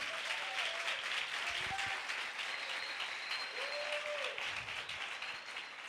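A church congregation applauds in praise, a continuous wash of many hands clapping at an even, fairly distant level, with a few brief voices rising faintly beneath it.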